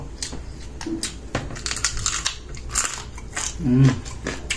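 Crunchy bites into fried tilapia, several crisp crackling crunches up close with chewing between them and brief murmurs at times.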